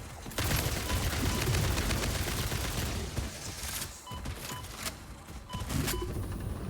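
Rapid bursts of video game gunfire during a livestream, dense, loud and continuous, thinning into scattered shots toward the end, with no talking.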